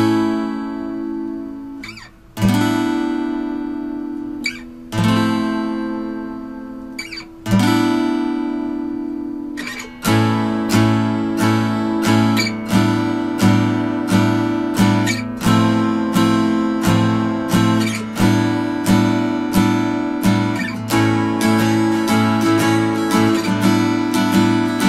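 An electric guitar strums a one-shape chord progression, starting on A: a few sustained ringing chords, then a faster steady rhythm of repeated strums, loud and close, with no talking.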